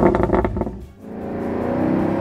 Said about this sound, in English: All right, let's make this roar.